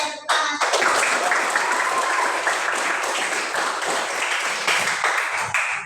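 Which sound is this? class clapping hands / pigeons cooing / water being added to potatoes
class clapping hands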